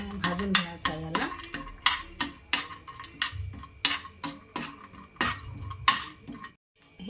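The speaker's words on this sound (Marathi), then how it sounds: "यामध्येच आपण थोडं तूप ॲड करू आणखी, आणि हे सुकामेवा भाजून घेऊ।" Dry fruits are stirred and roasted in ghee in a pan, with a spoon scraping and clinking against the metal in a steady rhythm of sharp, close strokes and faint sizzling underneath.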